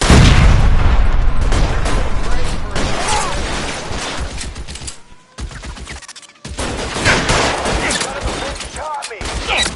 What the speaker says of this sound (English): Lay down some covering fire.